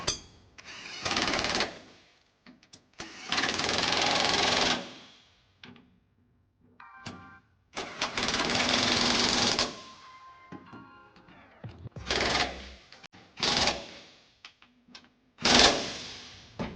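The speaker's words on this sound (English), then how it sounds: "take our impact and a 19mm socket with a 5-inch extension and just snug" An impact wrench with a 19mm socket on a 5-inch extension tightens trailer hitch bolts on a 2016 Nissan Frontier, firing in several loud rattling bursts of one to two seconds, separated by pauses and small clanks.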